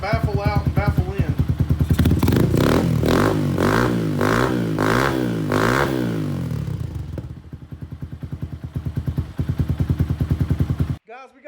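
Lifan KP Mini 150 motorcycle with an aftermarket exhaust revving hard, a loud, close series of rising and falling throttle blips that settles into a choppy idle, then quick blips again before cutting off.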